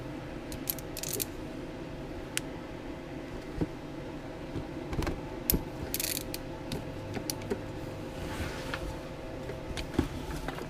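A wrench works the differential drain plug loose on a Yamaha Grizzly 450 ATV, making faint metallic clicks, creaks and small clinks over a steady low background hum, with no talking.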